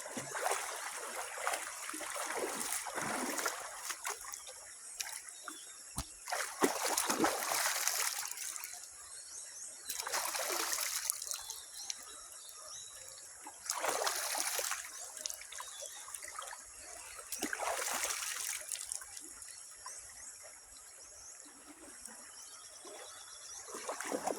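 A river creek flows in a steady, close rush and trickle of water that swells and fades in repeated surges over a continuous babbling background.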